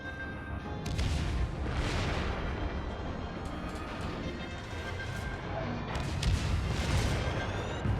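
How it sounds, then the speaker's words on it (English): Ship's guns firing shells in World of Warships, repeated heavy booming salvos with rumbling tails across the stretch, loud and close, with crashing impacts between. "I'm shooting at the ship. Some of my shells were just hitting the rock."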